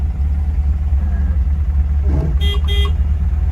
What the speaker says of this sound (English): There's only one horn.